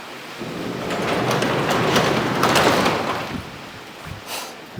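Heavy rain pours steadily on a garage in a dense hiss with a low rumble underneath, nearby and loud throughout.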